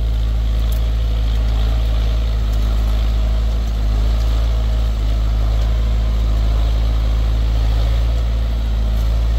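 A John Deere 6125M tractor with electric gearbox pulls an 8-disc plow through a field of cleared rubber-tree stumps, its diesel engine a loud, steady, close low drone throughout with no talking.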